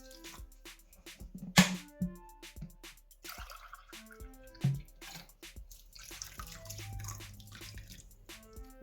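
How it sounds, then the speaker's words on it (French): Water is poured from a glass into a glue-free slime mixture. It sounds quiet and close, with scattered light drips and small splashes, then a softer run of trickling liquid toward the end. "Et je vais mettre 3 verres d'eau"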